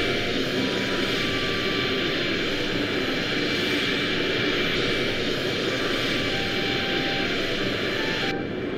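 A cartoon jet airplane engine whines and roars steadily at idle before takeoff, a loud continuous hum with a high whistling tone, cutting off abruptly at the end.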